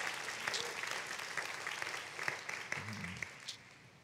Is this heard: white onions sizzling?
no